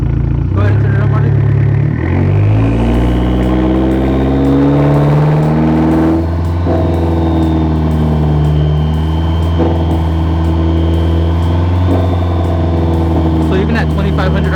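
A Fiat car engine is revved up from idle to about 2,500 RPM during a compliance check, a loud steady drone that climbs in pitch and then holds level, with people talking over it.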